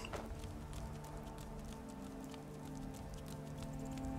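Steady rain in Skyrim VR, a soft continuous pattering hiss over quiet background game tones, faint and unbroken, without speech.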